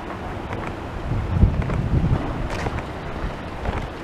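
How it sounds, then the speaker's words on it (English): Steady wind buffets the microphone in a continuous low rumble on a cold, wet day in Blackpool town, swelling slightly in the middle, with no voices. "cold and windy today."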